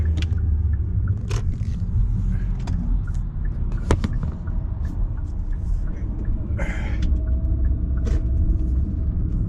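Road traffic rolls past in a steady, dense rumble of car and bus engines, with a few sharp knocks and scrapes cutting through the constant low roar.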